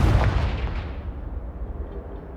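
A Confringo spell in the Hogwarts Legacy video game erupts as a single loud, booming explosion that decays into a long rumbling tail over a couple of seconds.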